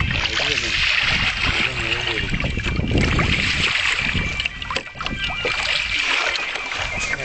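Boat moving along a forest river, a continuous rush of water and wind noise with occasional splashes, people talking over it.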